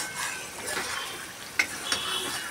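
Chicken being stir-fried kosha-style in a pan gives a steady, close sizzle with soft scraping of a stirring spoon and two sharp utensil clicks late on; no voices.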